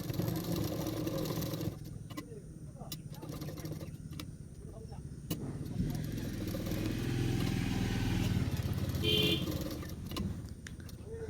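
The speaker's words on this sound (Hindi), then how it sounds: "अभी उसको इस तरह से फोल्ड करते हुए एक सिलाई कर लूँगी।" A sewing machine stitches a folded hook strip on a padded blouse, running with a steady, continuous mechanical whir and light clatter at close range.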